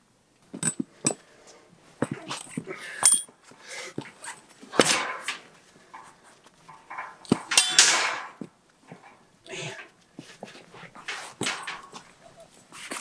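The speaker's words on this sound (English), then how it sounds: "While this rebar cutter is in fact rated 5/8. It's not super fun to cut 5/8 with it." A rebar cutter works through 5/8 rebar during rammed earth wall framing, giving sharp metallic clanks and snaps in irregular bursts, some loud and close, separated by quieter gaps, with no speech.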